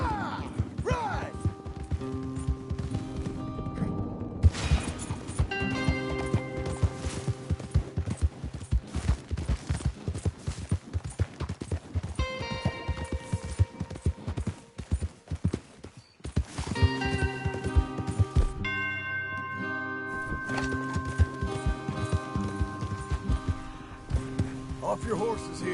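Horses gallop in Red Dead Redemption 2, a rapid clip-clop of hooves running under a dense mix of game music and scattered gunfire, with characters talking over the action.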